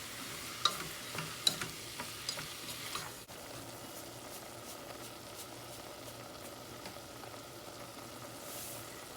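Meat being stirred in a pan for Vietnamese crepes, with a few faint spoon scrapes and clinks at first, then a quiet, steady sizzle of frying that continues alone.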